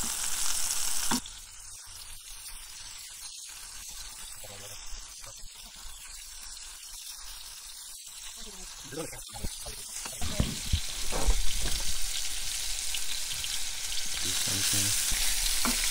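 Chunks of redfish fry in a pan inside a van: steady close sizzling and crackling that swells as pieces are stirred and turned, with a person talking at times.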